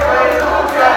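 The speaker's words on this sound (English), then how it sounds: "crowd already erupting in a chant" A lucha libre wrestling crowd roars in a sustained chant, a dense wall of voices holding steady and loud across the arena.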